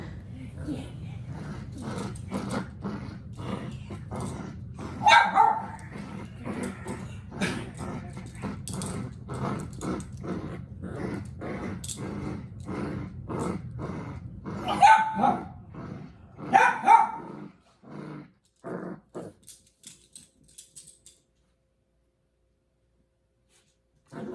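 A puppy growls and yaps in quick, repeated bursts while playing tug with a toy. The sound is close and fairly loud and stops abruptly near the end.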